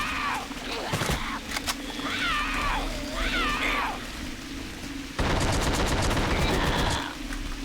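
A Tommy gun fires in The Suffering, with short rattling bursts early and a loud, sustained automatic volley near the end, between growling creature cries and game ambience.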